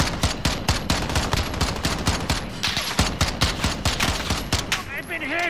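Rapid automatic gunfire in a multiplayer shooter video game, dense bursts of shots hammering steadily for several seconds, loud and close, with a player's voice briefly talking over it near the end.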